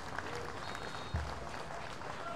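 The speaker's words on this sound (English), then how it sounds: "a round of applause there" Spectators at a canoe polo European Championships pitch give a round of applause for the teams, light and somewhat distant clapping with crowd murmur and a brief thump partway through.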